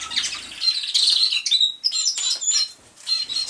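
American singer canaries in an indoor aviary sing bright, close trills and chirps, dense overlapping whistled phrases with brief pauses.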